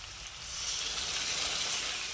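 Shrimp fry in a pan of hot oil, giving a close, continuous hissing sizzle that swells slightly after the first half second and then holds steady, with no one talking.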